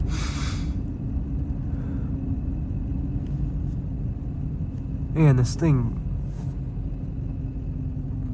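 A high-mileage Duramax LB7 diesel truck engine idles with a low, steady, fairly quiet rumble while someone talks over it.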